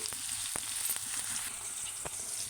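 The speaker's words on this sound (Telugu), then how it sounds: "రెండు రెమ్మల కరివేపాకు ఇంకా తొందరగా ఫ్రై అవ్వాలి అంటే ఒక స్పూను సాల్ట్ వేసుకోండి తొందరగా ఫ్రై అయిద్ది" Two sprigs of curry leaves frying in hot oil with a spoon of salt, a steady close sizzle and crackle with a few sharp pops, no voices.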